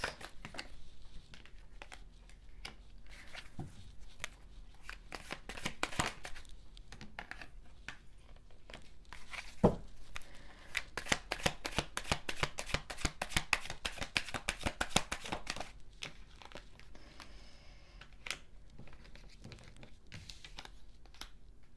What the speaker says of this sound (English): I'm just finishing up your shuffle here.